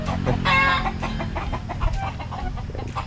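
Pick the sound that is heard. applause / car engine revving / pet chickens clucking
pet chickens clucking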